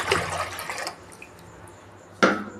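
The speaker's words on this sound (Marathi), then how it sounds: "एका पातेल्यामध्ये 1 लिटर पाणी घालून घ्यायचं।" About a litre of water gushes into a cooking pot, a close splashy pour that stops, then a second short burst of pouring follows after a quiet pause.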